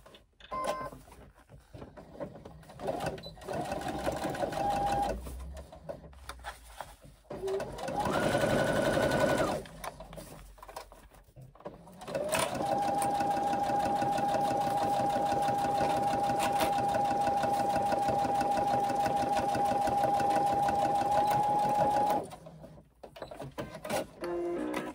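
A sewing machine stitches fabric in bursts, then runs in one long steady whirring run. The motor hums close by, with short pauses between the runs.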